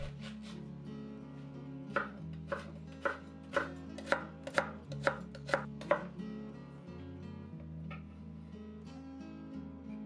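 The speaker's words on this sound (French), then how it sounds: "Commençons par les crudités avec la carotte que l'on coupe en julienne." A knife chops carrot into julienne on a cutting board, with a run of distinct close cuts that quicken in the middle and then fade into quieter taps, and no voices.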